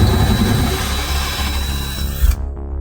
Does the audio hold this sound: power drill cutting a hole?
yes